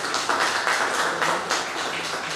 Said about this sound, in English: May I request a big round of applause for everyone gathered here today